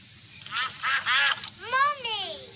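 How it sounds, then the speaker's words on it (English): Cartoon ducks quack in a Peppa Pig episode, a series of four or five loud, nasal calls in short bursts, heard on their own without talk. "It's the attack of the killer ducks again."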